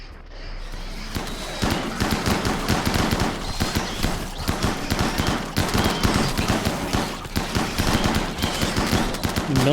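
Rapid bursts of ship turrets and weapons fire in RimWorld, continuous and loud, stacked volleys crackling densely for nearly ten seconds with no pause.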